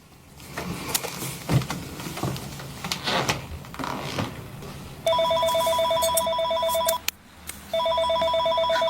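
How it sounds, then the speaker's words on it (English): A home landline telephone rings loud and close in two long electronic bursts separated by a brief pause, following several seconds of quiet household bumps and knocks. "Now he's calling the home phone."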